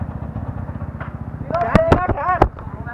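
Low, pulsing putter of a motorcycle engine idling up close, with a person speaking over it partway through.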